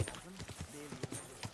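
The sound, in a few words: horse hooves in Kingdom Come: Deliverance II video game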